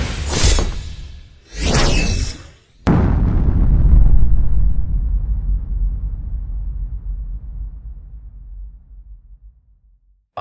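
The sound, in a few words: explosion sound effect in a fantasy story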